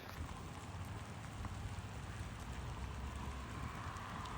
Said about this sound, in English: it's starting to rain quite a bit